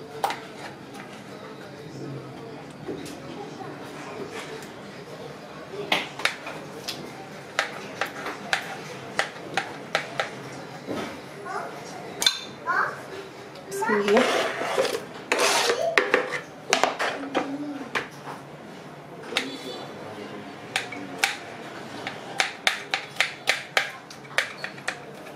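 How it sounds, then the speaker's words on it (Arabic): A kitchen food processor chopping and grinding tomatoes for Moroccan harira: irregular sharp clacks and gritty whirring bursts, close and fairly loud, with a louder grinding stretch midway and rapid clicking near the end, no talking heard. "في نفس الاله غادي نقطع، غادي نطحن مطيشه، غادي نقطعها غير شويه بحال هكا"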